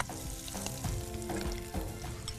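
Chopped onion sautéing in a pan for a Maharashtrian bharangi bhaji, a steady close sizzle with soft stirring scrapes running throughout.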